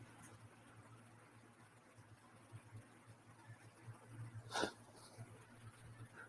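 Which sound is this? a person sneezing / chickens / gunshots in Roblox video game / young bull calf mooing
a person sneezing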